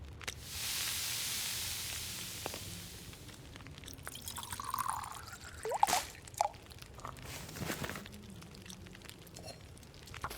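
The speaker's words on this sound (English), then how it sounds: "that should be enough time to melt and boil the snow" Snow melting and boiling into water in The Long Dark video game, with a steady hiss at first, then scattered drips, bubbling and small liquid pops, faint and close.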